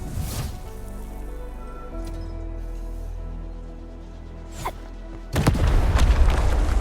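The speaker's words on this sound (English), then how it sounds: "I give that explosion a 10 out of 10." A low, rumbling explosion in Arknights: Endfield booms and lingers with a deep tonal drone, then a second burst of crackling debris and noise hits near the end.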